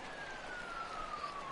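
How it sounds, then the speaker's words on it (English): Fire truck siren outside, a faint, distant wailing tone gliding slowly downward over a low background hiss. "That's a fire truck."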